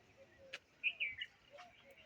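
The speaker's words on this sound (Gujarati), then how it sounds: "હા, બધા પંછી આવે એટલે પાણી પીવે." Small birds chirp in short, bright bursts at a garden water bowl set out for them in summer, a few quiet calls scattered over a faint background.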